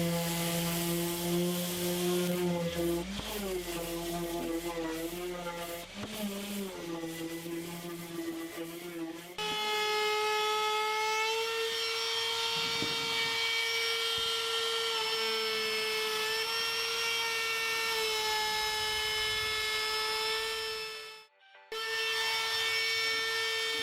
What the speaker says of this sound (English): this ball bearing is going to run along the side of the wood, and if you can see it's kind of cone shaped, it's called a chamfer